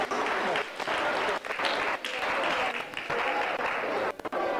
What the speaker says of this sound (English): Round of applause for the goodness of God and his faithfulness.